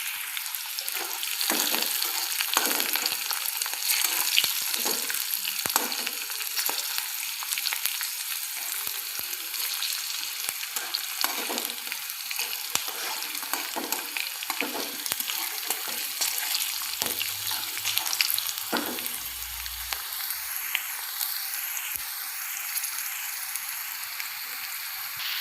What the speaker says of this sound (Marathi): त्यानंतर मी इथे शेंगदाणे टाकून घेणार आहे आणि याला छान असं परतून घेऊ.